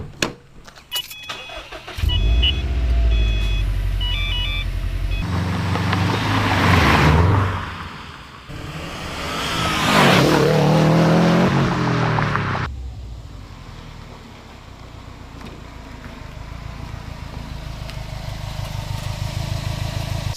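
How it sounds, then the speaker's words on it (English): Subaru WRX STI with an aftermarket clutch master cylinder brace driving around town, its engine revving up hard under acceleration, dropping away through downshifts and surging again, loud and close with no talk. "So after a quick run around town, just testing out acceleration, 0 to 60, downshifts, everything that has to do with this whole setup"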